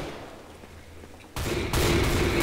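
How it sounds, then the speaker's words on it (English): Shotgun fire in a video game, two loud blasts close together that jump in sharply over a quieter background and then hold a thick, sustained roar. "How did you shoot that far with a shotgun?"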